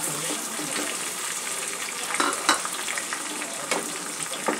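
Onion, garlic and tomato paste fry in oil in a pan for a Bengali fish curry, giving a continuous close sizzle with soft scraping stirs and a few sharper spatters, with no talking.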